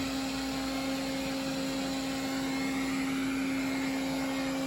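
Roborock S5 robot vacuum cleaning a floor, a steady, fairly quiet motor whine with a constant high hum and faint brushing noise underneath, unbroken throughout.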